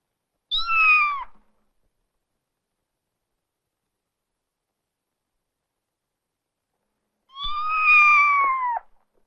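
A cat meows twice, a short mew near the start and a longer drawn-out meow several seconds later, with silence between.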